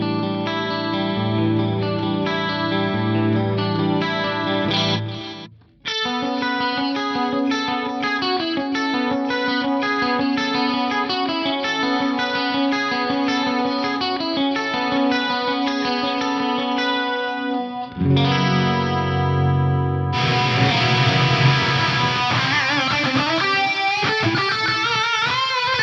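Electric guitar, played clean and then distorted, runs through an Eventide H3500 micro pitch shift and dual delay, giving a shimmering, chorus-like wash with echoing repeats. It sustains loudly without talk, pauses briefly, then turns brighter and dirtier.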